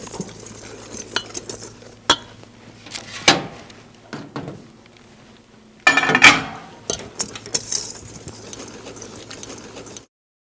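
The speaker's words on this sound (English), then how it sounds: "I'm going to be using a whisk just to break up any of those pieces that are clumped together" Whisk scraping and clinking in a bowl while confectioner sugar is broken up, irregular near clattering strokes with short pauses between bursts, no voices.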